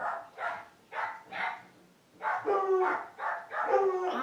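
Pet dogs barking in excited, repeated bursts indoors, loud and close, with some overlapping yips and a steady rhythm of sharp barks.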